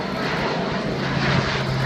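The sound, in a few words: new generation military airlift aircraft flying at Farnborough air show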